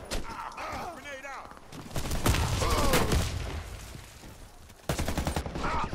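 Gunfire and explosions in the first-person shooter Warface, with a grenade blast among repeated loud bursts and rattling shots, and a player's voice talking over the action.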